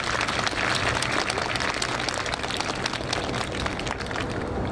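A crowd applauds steadily and densely at a guard dog training demonstration during the Komaki Air Base open base, the clapping continuous and fairly loud with no clear talk.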